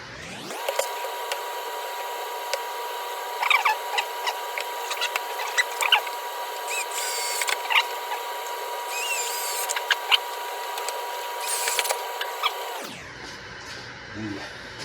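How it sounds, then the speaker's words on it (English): A drill bores pocket holes in wood for a gate, a steady high-pitched motor whine with rising and falling bursts as it cuts, running for about twelve seconds and then stopping abruptly. "Now we get to do the pocket holes."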